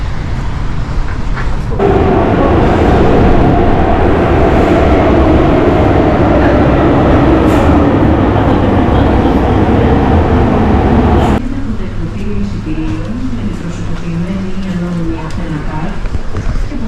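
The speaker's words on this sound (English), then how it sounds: "Saying goodbye to the graffiti train for now." A loud rumbling metro train roars steadily through a station in Athens, then the noise drops and shifts to a lower, fading rumble as it pulls away.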